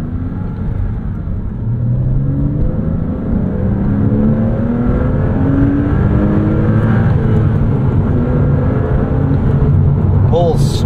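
A 2006 Porsche Cayman S with a 6-speed manual revs hard up to its 7,300 RPM redline, a loud, close engine note whose pitch climbs steadily through the gears, heard from inside the cabin.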